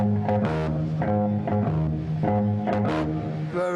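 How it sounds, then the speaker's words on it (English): A typical bass guitar plays a short run of plucked, slightly distorted notes in a steady rhythm, close and clear with no talking. "the basic difference is that most bass players sound like this"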